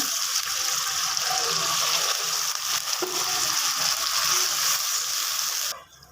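Water pours and gushes steadily into a cooking pot of chicken biryani with onion, ginger-garlic and whole spices, a continuous hiss that stops abruptly near the end.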